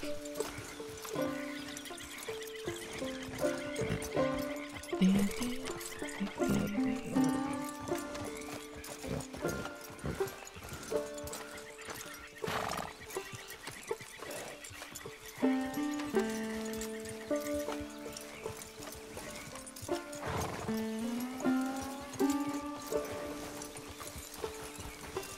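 Horse hooves clip-clop in the Red Dead Redemption 2 game, with a rhythmic trot and several whinnies and neighs at close range, plus light game music in the background.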